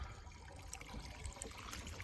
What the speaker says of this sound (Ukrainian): доливаємо воду